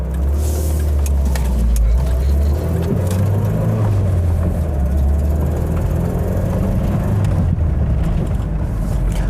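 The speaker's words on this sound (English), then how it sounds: "I suppose that leaky exhaust doesn't help with the whole refinement thing." Peugeot 505 GR 8-seater estate driving on the road with a leaky exhaust, a constant loud low engine drone and road rumble inside the cabin, with faint bits of talk.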